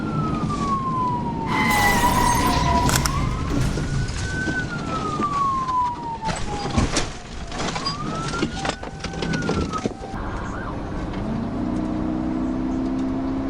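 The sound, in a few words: police car siren arriving at the scene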